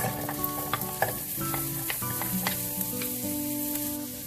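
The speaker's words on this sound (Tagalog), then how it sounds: "igisa natin yung ating sibuyas" Onions sautéing in cooking oil for chicken curry, with a steady sizzle broken by frequent stirring clinks and scrapes of the utensil against the pan, close and fairly quiet, no voices.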